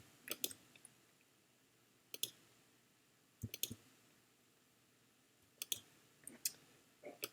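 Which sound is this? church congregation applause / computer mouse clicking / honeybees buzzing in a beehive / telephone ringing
computer mouse clicking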